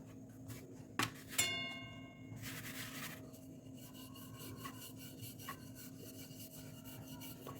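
Mango puran poli dough being rolled out with a rolling pin, including the edges: soft, steady rubbing and rasping strokes over a low kitchen hum, with a couple of sharp clicks near the start.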